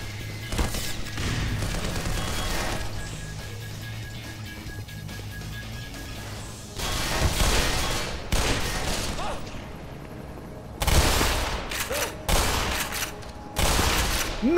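Weapons firing in the Black Mesa video game: repeated bursts of gunfire and booms in several loud clusters separated by quieter stretches, with voices mingled in the mix.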